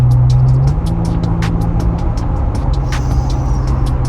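A 285-horsepower Jeep with a ticking engine drives and accelerates, its loud, steady engine roar rising in pitch at first, with road noise and faint rattles throughout.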